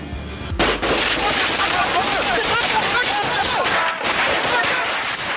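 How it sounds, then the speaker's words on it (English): A rifle rips through a 30-round magazine during a standoff with sheriff's deputies, firing loud rapid bursts of gunshots in a dense, continuous volley that pauses briefly near the end. "unloads a 30-round magazine in a matter of seconds"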